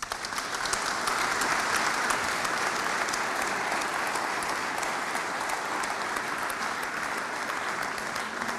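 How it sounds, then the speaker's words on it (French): A full audience applauds at an evening event, a dense, even wash of clapping that holds steady for several seconds without easing. "Vous pouvez les applaudir."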